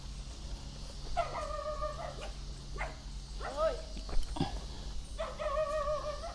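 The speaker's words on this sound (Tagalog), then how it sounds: "Aso ayun aso." A dog barks and yelps a few times at a moderate distance, its cries rising and falling among low background noise and murmured talk.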